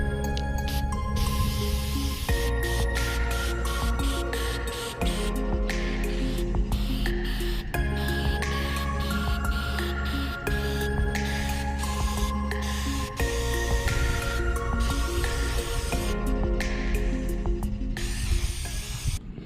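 A steady, loud spray hiss of cleaner on a K&N air filter runs on and off for a long stretch, with tonal music playing underneath.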